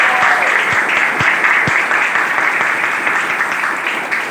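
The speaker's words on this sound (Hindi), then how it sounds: "तो जोरदार तालियां" Loud applause from an audience at a grand recognition event in Mumbai, a dense steady wash of many hands clapping throughout, easing slightly toward the end.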